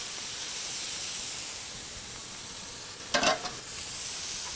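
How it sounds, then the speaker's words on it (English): Onions and elk smash burgers sizzle on a hot griddle, a steady close frying hiss throughout with a brief sharper burst of spatter near the end. "dropping the onions on here is that they get scattered all over the griddle"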